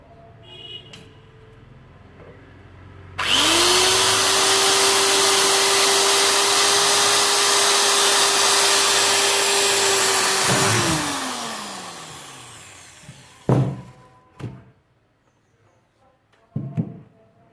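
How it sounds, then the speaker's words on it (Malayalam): A Buidskill electric drill bores a hole for amplifier assembly, a loud steady motor whine held about seven seconds before winding down, followed by a few sharp knocks and clunks nearby. "ജസ്റ്റ് വെറുതെ ഒരു ഹോൾ ഡ്രിൽ ചെയ്ത് നോക്കാം."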